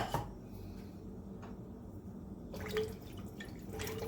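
Broth is poured into a stew pot, a soft liquid pour and drip heard close and fairly quiet, with faint clinks of the pot.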